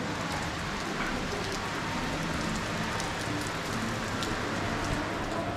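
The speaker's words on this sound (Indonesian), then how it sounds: "hujannya yang nggak terlalu deras" Light rain falls steadily in a misty fortress setting at The Lost World park in Jogja, an even, continuous patter heard up close with no voices.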